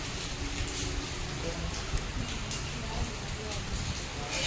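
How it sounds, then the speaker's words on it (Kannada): Heavy rain pours steadily outside an apartment in wind, a dense, even hiss with scattered drop patter, fairly close and continuous throughout, no talk. "ಎಷ್ಟು ಜೋರು ಮಳೆ ಬರ್ತಾ ಇದೆ."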